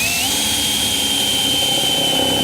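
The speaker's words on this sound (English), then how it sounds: "I'm drilling out the places where the sheet metal's been spot welded together" Power drill boring out spot welds in sheet metal, a loud continuous high-pitched whine that rises slightly at the start and holds steady, close to the microphone.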